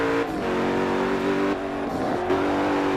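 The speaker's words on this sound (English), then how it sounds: "let's see how the Agera gets on around Long Beach" A Koenigsegg Agera engine drones steadily at high revs around the Long Beach street circuit in Forza 7, with gear shifts breaking the tone every second or so, loud and close, with no talk.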